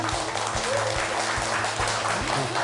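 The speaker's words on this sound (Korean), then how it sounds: "여러분 박수 부탁드립니다" A lecture audience claps steadily and loudly, a dense wash of applause that continues without pause throughout.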